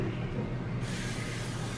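A spray bottle misting onto skin gives a steady, close breathy hiss with no pauses, with a slight change in tone partway through.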